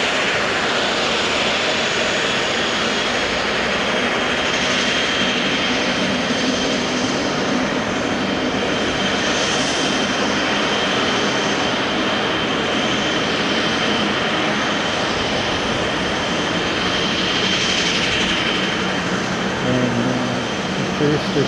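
A Jetstar airliner arriving from Christchurch at Auckland Airport produces a sustained, fairly loud jet roar with a slowly shifting high whine across the whole stretch, carried under a continuous broad wash of noise.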